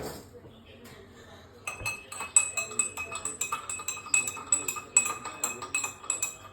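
A metal spoon clinks repeatedly against a bowl while ginger and honey are mixed, with quiet handling at first and then a steady run of bright, close clinks.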